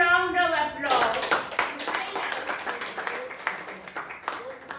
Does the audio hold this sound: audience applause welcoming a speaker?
yes